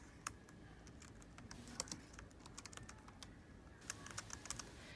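Rapid keyboard typing on a computer, a steady run of sharp clicking keystrokes with irregular rhythm and occasional louder taps, fairly close, with no voices.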